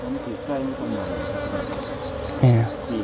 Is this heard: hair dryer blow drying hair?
no